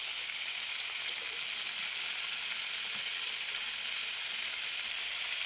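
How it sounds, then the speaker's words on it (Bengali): Spinach and mixed vegetables sizzle and fry steadily in a pan as they are stirred, a constant bright hiss with no talking. "তারপরে ভালো করে নাড়াচাড়া করে নিচ্ছি আমি"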